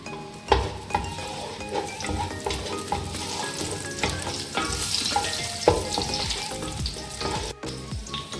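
Raisins fry in hot oil while being stirred for chicken biryani, giving a steady close sizzle broken by scraping and occasional clinks of a spoon against the pan.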